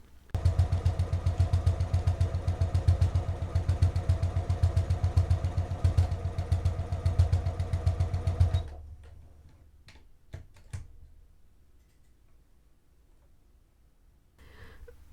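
Sewing machine running a regular straight stitch with stretch thread on knit fabric, a fast steady mechanical chatter for about eight seconds before stopping, followed by a few faint clicks and handling sounds.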